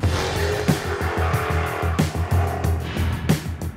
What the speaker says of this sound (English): that's a 2015 Jaguar XFR-S, and this is the 2-Minute Test Drive